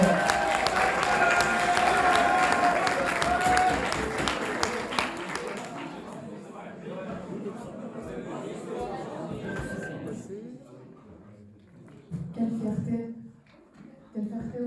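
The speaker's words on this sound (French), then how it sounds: "Allez, un applaudissement, s'il vous plaît." An audience at a prize ceremony for a school eloquence contest bursts into loud applause with chatter, fading after several seconds, with a voice speaking later over quieter crowd noise.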